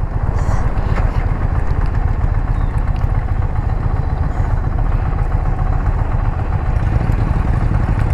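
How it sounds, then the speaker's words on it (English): An Indian Challenger motorcycle being ridden, its engine droning steadily and loudly with constant wind rush, and no speech over it. "I'm driving the Indian Challenger now"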